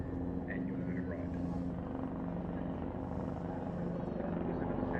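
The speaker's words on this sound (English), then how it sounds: "The Australian Army ARH Tiger." An Australian Army Tiger attack helicopter's rotor throbs steadily at moderate distance during a Mindil Beach flying display, a continuous chopping drone that holds level throughout.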